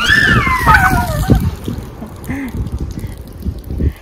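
Children splashing and playing with water and sand outdoors on a hot day, with sloshing and splatter sounds mixed with high children's voices, some squealing, and wind noise on the microphone.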